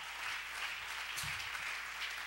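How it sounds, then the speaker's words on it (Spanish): Church congregation applauding as an offering of praise at a Spanish-language service, a continuous wash of clapping from many hands, steady and fairly loud throughout. "Le vamos a regalar una ofrenda de palmas al Dios de la gloria."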